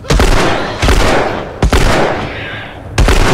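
Loud, close bursts of gunfire in the video game The Last of Us, several heavy shots and short volleys crackling in quick succession with no voices.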